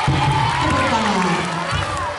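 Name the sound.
children applauding and cheering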